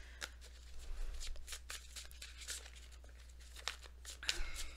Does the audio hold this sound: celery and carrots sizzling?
no